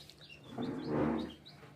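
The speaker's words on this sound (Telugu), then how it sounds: "మా కోడి పిల్లలు ఎంత క్యూట్గా ఉన్నాయి ఇవి" Newly hatched chicks, a day old, give soft, high cheeps, several short peeps close by under a faint low hum.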